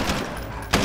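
Gunfire in the Warzone video game, a short burst of rapid automatic shots that open loud and then return with a sharp crack near the end.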